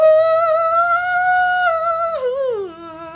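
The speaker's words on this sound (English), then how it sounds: "your average person's head voice would kind of sound like this" A single sustained high note sung in head voice, bright and steady with slight vibrato, sliding downward near the end; a solo voice, close and loud.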